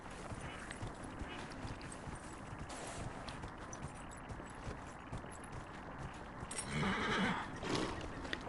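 A horse in the Dragon Age Inquisition video game whinnies and its hooves clop, faint and fairly distant, with a brief louder burst near the end.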